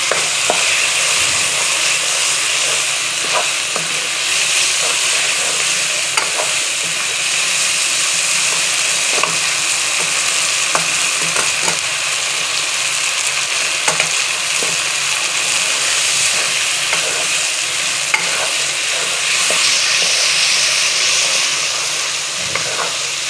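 Slit green chillies fry in oil for a mutton karahi, a loud, continuous close-up sizzle with scattered spits and pops and occasional stirring scrapes.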